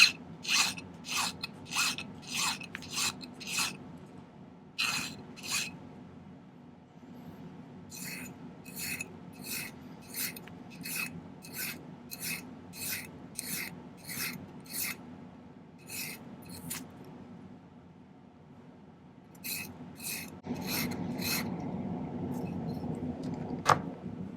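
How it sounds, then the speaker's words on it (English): A metal file rasps a taper onto one end of a silver cabochon ring, close and dry, in bursts of evenly spaced strokes separated by short pauses. "I think I'm going to file a taper on one end"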